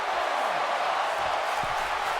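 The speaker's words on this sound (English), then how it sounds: "this crowd's loving it" Wrestling arena crowd in WWE 2K19 roaring steadily, a dense unbroken wash of cheering noise throughout the short moment, with a commentator's voice faintly beneath.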